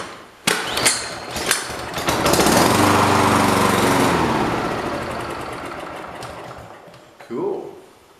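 A two-stroke engine coughs and catches, then revs into a loud, steady buzzing run that slowly fades, with sharp pull-start bursts at the start and a brief voice near the end.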